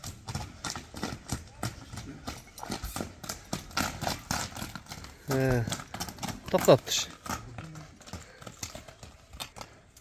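Horse hooves clip-clop in a quick, steady rhythm on hard ground, close and fairly loud, while someone talks and calls out to the horse over the hoofbeats.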